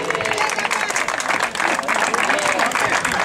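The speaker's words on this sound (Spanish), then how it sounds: "un fuerte aplauso para ellos" Spectators clap for runners finishing a street mile race in Cambados, sustained applause from a crowd with an announcer's voice talking over it throughout.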